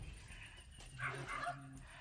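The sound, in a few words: dogs barking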